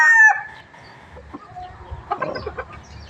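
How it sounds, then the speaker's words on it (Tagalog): A rust-coloured rooster gives a short crow, followed by a few soft clucks and scratchy farmyard noises, close by and alone with no talking. "Yan ho ay dun sa aking kapatid na manok, oh."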